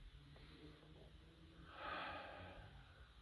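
A person breathes audibly with no one talking, a soft steady exhale that swells into a louder, breathy rush about halfway through before easing off, over a low background hum.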